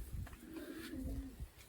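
Racing pigeons cooing near a loft, one soft drawn-out coo with faint background rustle, fairly quiet and close.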